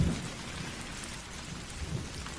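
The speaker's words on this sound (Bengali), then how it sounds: "ঠিক তখনই ঝোড়ো হাওয়া খুব জোরে জোরে মেঘ ডাকতে শুরু করলো।" A thunderstorm with rain and a low rumble of thunder rolls under a steady wash of falling water, with no talking.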